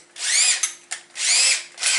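A handheld power drill whirs up in two rising bursts, spinning up and stopping between, close and loud, at a workbench casting aluminum parts for a quarter-scale GT40.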